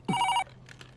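One short burst of a telephone ring, loud and close, cutting off quickly and followed by faint background sounds.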